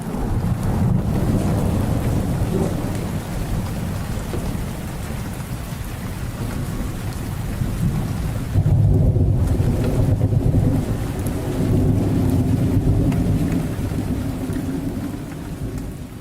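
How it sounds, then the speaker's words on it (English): Steady rain falls with heavy rumbles of thunder rolling through, a dense continuous wash of downpour that swells louder midway with no talking over it. "It starts to rain."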